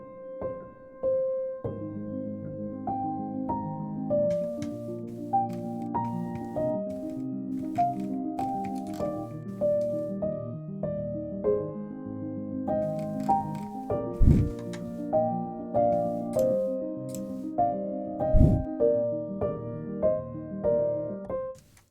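Splice Instrument piano playing a melody, dry with very little reverb, a steady flowing line of notes over sustained lower chords, clear and close, with no voices.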